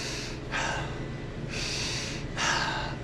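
Forceful breaths during a kickboxing jab-cross drill, a rhythmic pattern of sharp exhales and inhales, close and fairly loud, with no talking.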